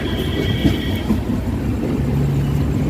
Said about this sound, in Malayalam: ട്രെയിൻ കോഴിക്കോടേക്ക് എത്തിയിട്ടാ